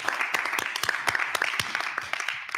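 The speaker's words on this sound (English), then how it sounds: "let's have a round of applause for Michael and everyone involved." Audience applause after a talk, a dense wash of many hands clapping together, steady and fairly loud for a couple of seconds before tapering slightly at the end.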